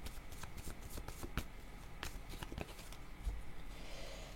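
Tarot cards are shuffled by hand in close, soft riffles and flicking taps that carry on steadily at low volume, with faint background noise.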